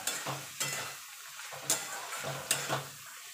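Sliced ridge gourd with poppy seed paste and green chillies is stirred while it fries, a soft sizzle broken by several distinct scraping strokes of the spatula, fairly quiet and close, with no talking.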